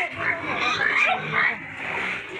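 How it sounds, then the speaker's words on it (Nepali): Pigs grunt and snort up close at a Nepali farm shop selling pigs from its own farm, in a short, dense burst of rough oinking. "सुँगुरको त बजार छ एकदमै फ्रेस सुँगुरहरू हुन्छ"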